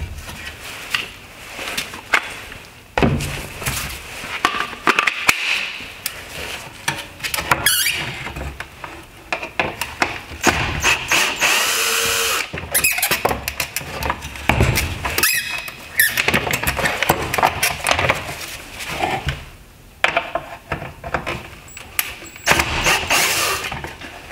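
Squeaky, creaking plastic and scattered clicks come from removing screws and working loose a 2013-2015 Honda Accord halogen headlight housing. The handling noises sound close and continuous, with brief quieter gaps and no talking.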